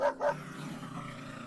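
Two quick, close barks from a dog come at the very start, then fade into a quiet background hum.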